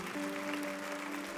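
Church congregation clapping hands during worship, a steady dense wash of claps under sustained organ or keyboard tones throughout.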